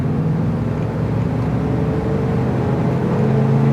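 A 1979 Chevy Camaro Z28 with a 350 engine revs and pulls steadily under acceleration, a continuous loud low engine drone throughout with no talk over it.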